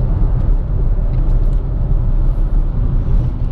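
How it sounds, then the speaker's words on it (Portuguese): Renault Sandero RS Racing Spirit 2017 engine rumbling steadily from inside the cabin, a loud, continuous low drone with no voices over it. "o ronco do motor é bem presente aqui no carro"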